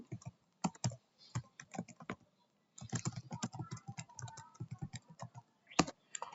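Someone types a command on a computer keyboard while setting up network configuration, producing a brisk, uneven run of close key clicks and taps with short pauses, no voices.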